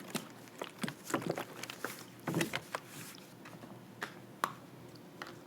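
A bottle of liquid houseplant fertilizer shaken by hand, giving a quick series of soft sloshing knocks and rattles, irregular and close, in a quiet room.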